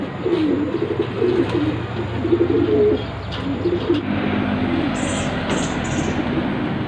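Pigeons coo in low repeated rolling calls at close range over a constant background hum, with a few higher chirps toward the end.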